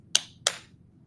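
Two soft, light hand claps land about a third of a second apart, close and quiet against a silent background, with no voices.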